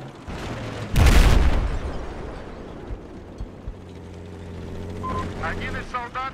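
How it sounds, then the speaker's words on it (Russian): Battlefield 4 gameplay: a loud explosive boom hits about a second in and rumbles away, followed by a steady low drone like an enemy helicopter, with chirpy game voice radio callouts near the end. "Вижу вражеский вертолет!"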